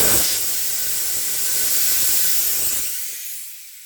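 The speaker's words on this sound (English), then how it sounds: "you really should pull the valve stems. Let the air pressure out." Air hisses out of a 53-inch Michelin military tire for a wheel loader once the valve stem is pulled. The loud, steady, close rush of pressure tapers off and fades near the end.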